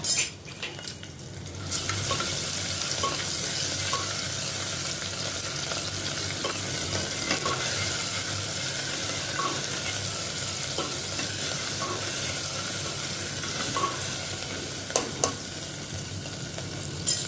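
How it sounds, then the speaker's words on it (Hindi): Chopped onion with ginger-garlic-green chili paste sautés in a pan, a steady close sizzle with occasional scraping clinks of a spoon as it is stirred, and no one speaking. "इसको भी अनियन के साथ थोड़ा सौते करती हूँ ताकि इसका भी कच्चापन निकल जाए।"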